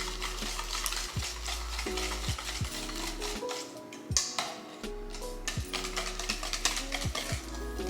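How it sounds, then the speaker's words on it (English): Eggs being whisked into fudgy brownie batter in a bowl, with quick repeated scraping and clinking strokes and a wet, steady stirring texture, moderately quiet with no talk. "I'm just gonna incorporate these eggs in and make sure they break up really well before adding the rest of the eggs"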